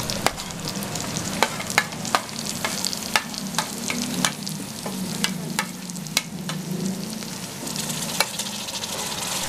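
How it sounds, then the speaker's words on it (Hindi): Tomatoes fry in a pan with green chilies, a steady close sizzle running throughout, broken by sharp spoon or spatula clicks against the pan as the mixture is stirred. "टमाटरों को अच्छे तरीके से फ्राई करेंगे।"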